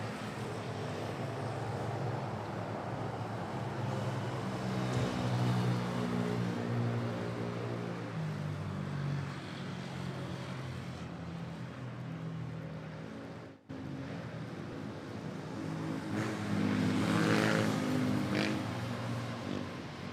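A Philippine Airlines Boeing 777 takes off from Manila Airport with a broad, steady jet roar that swells and fades slightly over a long stretch, heard from a distance with no voices.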